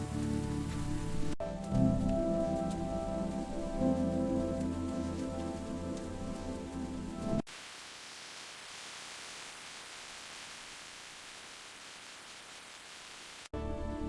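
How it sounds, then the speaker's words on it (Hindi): Steady rain in a Pakistani village patters and hisses on a surface, continuous and fairly loud for several seconds, then shifts to a softer, thinner rain sound. "बारिश हो गई, कितना खुशी की बात है।"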